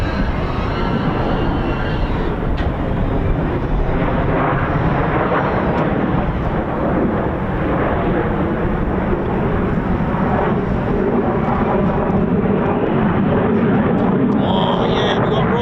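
Jet aircraft with a Rolls-Royce engine, an F-35B at an air display, roaring loud and continuous throughout as it passes, with a broad rumbling thunder that swells slightly toward the end.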